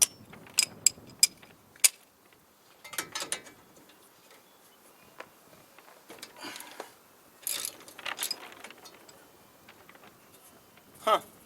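A wrench working an 18mm steering rack bolt on a drag build, giving scattered clicking and ratcheting bursts of metal-on-metal ticks separated by quiet gaps, fairly faint and close.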